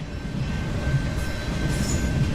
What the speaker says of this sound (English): He's got the train music playing